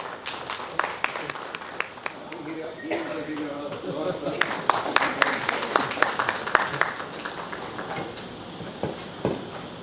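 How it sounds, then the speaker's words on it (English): An audience at an HR conference's reverse mentoring session claps in a dense patter of applause that swells in the middle, with voices talking over it. "A big round of applause for you."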